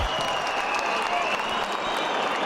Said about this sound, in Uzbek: ajoyib jang uchun har ikkala bokschini olqishlab qo'yamiz